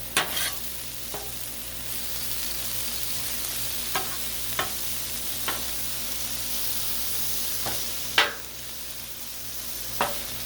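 Turkey and vegetables stir-fry on a Blackstone griddle with teriyaki sauce, salt, pepper and garlic, giving a steady close sizzle broken by sharp spatula scrapes and clacks every second or two.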